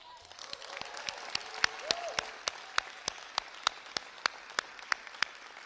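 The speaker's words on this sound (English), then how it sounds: "I want to hear a big round of applause because we would not be here without you all." Applause at an Illinois bill-signing event, with faint crowd clapping under a string of loud, evenly spaced single claps that stand out in a steady rhythm, while voices are heard faintly in the background.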